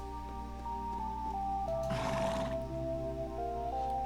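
A horse whinnies once in a short, bright burst over a steady musical backdrop in the video game Legend of Heroes: Trails into Reverie, then fades back into the looping tones.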